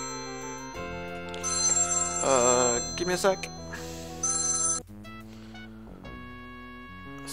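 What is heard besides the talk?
telephone ringing during an incoming phone call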